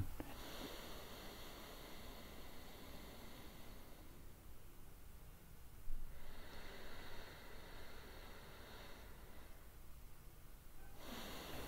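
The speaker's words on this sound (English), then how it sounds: "breathe in with your opposite nostril" Nasal breathing in and out through one nostril during a sleep apnea and sinus exercise, soft rushing airflow in slow alternating phases, close and faint, with no talk.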